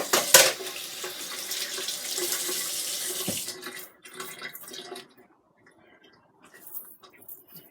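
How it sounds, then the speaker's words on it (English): A tap runs into a sink for about four seconds while hands are washed, a steady splashing rush that cuts off and leaves faint drips and handling noises. "Wash my hands."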